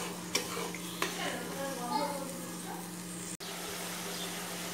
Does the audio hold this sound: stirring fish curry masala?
yes